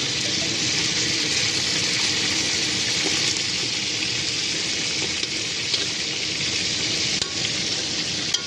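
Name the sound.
fish heads frying in a pan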